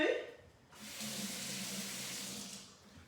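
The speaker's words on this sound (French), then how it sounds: "Et le bloc, on le passe à l'eau tout simplement, puis on vient l'essuyer." Tap water runs steadily over a stamping block at a sink, a close, even rush of water beginning after a brief quiet moment and lasting about two seconds before easing off.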